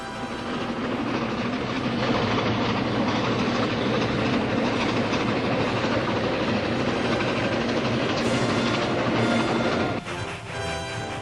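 Loud, continuous rumble of an E4 steam locomotive pulling the 49er passenger train, with rhythmic clickety-clack of wheels on rails and a heavy engine drone, then a brief drop.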